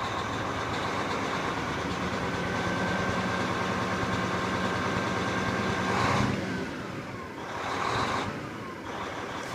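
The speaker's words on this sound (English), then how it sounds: "Nice sounding engine." A 1999 Volvo VNL64T truck's diesel engine runs steadily at idle with a low throbbing rumble, then swells briefly in short revs near the end, heard close up with no talking.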